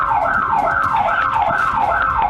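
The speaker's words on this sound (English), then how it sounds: "And triggering an alarm." A home door alarm wails in a loud, continuous rising-and-falling siren tone, cycling steadily about every half second with no voices.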